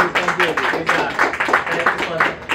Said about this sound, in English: Please give a big round of applause to Mr. Anwar Sadatullah.